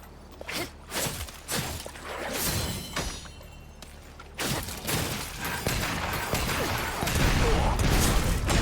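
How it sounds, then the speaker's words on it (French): Dense crackling bursts and pops of fireworks in the video game Wuchang, mixed with booms and whooshing, continuous and fairly loud, with game sound effects layered throughout. "Des feux d'artifice."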